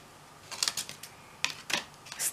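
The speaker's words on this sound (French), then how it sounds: "pour ouvrir ça, il me faut des ciseaux" Scissors snip open the plastic packaging of anti-stress toys, giving a few sharp, close cuts in two quick clusters with quiet gaps between them.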